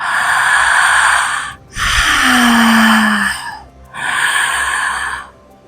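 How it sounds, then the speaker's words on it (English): Three loud, open-mouthed breaths drawn through the back of the throat in a yoga practice, each a long rasping rush of air separated by short pauses, with a brief hum in the middle one. "Open your mouth up and breathe through your throat, like you're breathing through the back of your throat."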